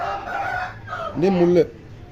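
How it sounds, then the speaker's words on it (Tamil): A fighting rooster with a clean face crows once, loud and close, with a rising then falling crow near the end, over some steady background noise. "நல்ல முகசுத்தமான சேவல், நல்ல சண்டை"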